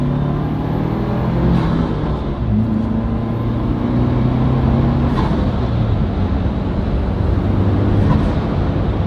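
A Ford Mustang fitted with a piggyback power module accelerates hard through its gears, a loud, continuous engine drone running the whole time with brief breaks at each shift.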